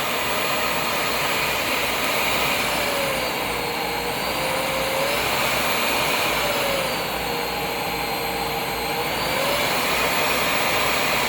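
A Kenmore Premalite vacuum cleaner runs continuously at speed with a loud, steady motor whine and rushing airflow, its pitch drifting slightly as speeds change, no talking.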